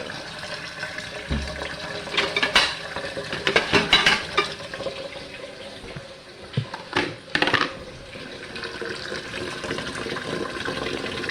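Tap water runs steadily into a pot for pasta in a home kitchen, a faint, even hiss broken by a few louder splashes and clatters.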